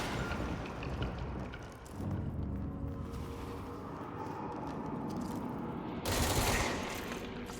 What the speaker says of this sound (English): Oh, they're exploding again.